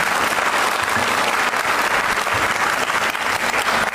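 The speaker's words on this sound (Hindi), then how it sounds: "तालियों के माध्यम से बताएं" Steady, dense applause from a crowd at a Republic Day event, sustained evenly for the whole stretch without pause.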